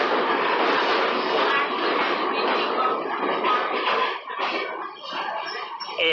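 A Hobo Railroad train in Lincoln, NH, crossing a bridge: a close, continuous rumbling roar of rolling wheels with clattering surges and dips, heard from on board.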